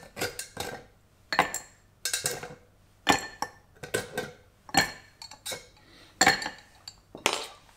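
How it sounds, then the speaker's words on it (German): Ice cubes tumble into a cocktail mixing glass while a Martinez is made, giving close, crisp clinks and rattles in irregular bursts of several hits, separated by short quiet gaps. "Jetzt kommt Eis in unser Rührglas."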